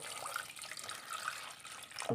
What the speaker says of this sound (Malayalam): നമ്മൾ കുറച്ച് ശർക്കര എടുത്തിട്ടുണ്ട് ഇത് ഒരു മുന്നൂറ് ഗ്രാം ശർക്കര നമ്മൾ എടുത്തിട്ടുണ്ട് നമുക്ക് ഇനി കുറച്ച് വെള്ളം ഒഴിച്ചു കൊടുക്കാം